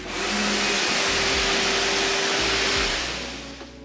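A pressure washer sprays steadily while rinsing snow foam off a classic car, a loud continuous hiss with a low motor hum that eases off near the end.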